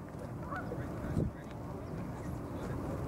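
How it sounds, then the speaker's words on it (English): A duck on open water gives a few honking quacks in the middle, over a steady background of flowing water and faint outdoor noise. "duck swimming"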